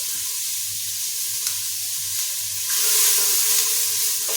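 Turmeric and onions fry in a hot AMC cookware pan for mutton curry, giving a steady close sizzle with a brief louder hiss near the end, no voices.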